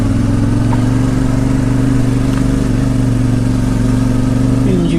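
A CFMoto 450 MT motorcycle engine pulling in first gear, loud and close with a steady droning hum that holds throughout, wind rush over the top.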